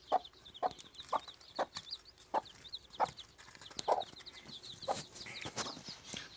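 A broody Trabzon hen clucks in low, steady repeated bursts, fairly faint, with occasional higher chirps from other birds in the background.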